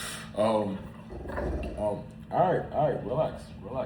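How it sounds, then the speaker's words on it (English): A dog growls and whimpers close by in a series of short whining, rising-and-falling cries, while someone speaks briefly over it. "that's my dog."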